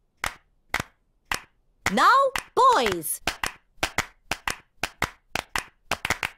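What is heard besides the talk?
children clapping hands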